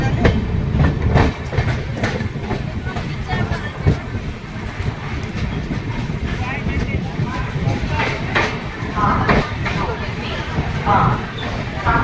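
The Howrah–Darbhanga Express rolls into Jasidih after 309 km from Howrah, a continuous loud rumble with clickety-clack wheel beats and wind buffeting, while a person talks over it.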